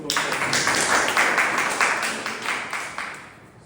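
A small audience at a Toastmasters club meeting claps in a loud, close, rhythmic round of applause that fades out at the end.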